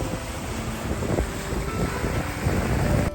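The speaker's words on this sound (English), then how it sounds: "As we approached Race Passage, the winds were up and coming off our stern." Strong wind blows while a sailboat runs before it on open water near a passage. Loud, constant roaring buffets the microphone and masks any other sound.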